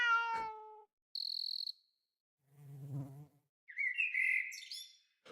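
A short cricket-chirp sound effect from a small jam-made video game, heard alongside other brief animal effects such as a bird-like chirp and a lower buzzing call, each crisp and separated by silence.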